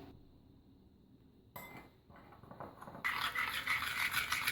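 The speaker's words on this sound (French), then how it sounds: "Donc je remue bien pour éviter les grumeaux." A spoon stirs flour into venison cooking juice in a bowl, making soft scraping and faint clinks that start very quietly, then grow brisker and louder with a clear scrape toward the end.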